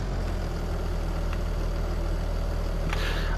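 A medium tractor engine in Farming Simulator 22 idles steadily with a low, even rumble that holds throughout, with a brief higher rushing noise near the end.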